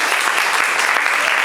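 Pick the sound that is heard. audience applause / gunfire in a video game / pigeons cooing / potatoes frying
audience applause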